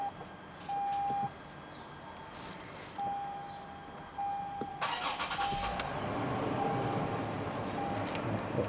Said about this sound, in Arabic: قعدنا حتى نشغل السيارة